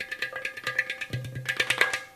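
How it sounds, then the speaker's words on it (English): Ghatam clay pot struck with fingers, thumbs and palm, producing a dense, rapid run of ringing taps and slaps with deep tonal bass strokes mixed in, played alone at moderate loudness. "We use all the 10 fingers, like all these things. And also the thumbs,"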